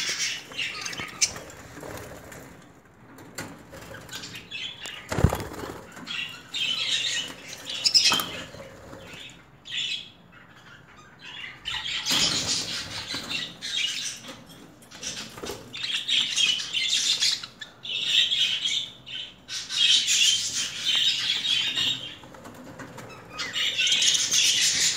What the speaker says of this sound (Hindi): और ये कुछ बर्ड्स निकले हैं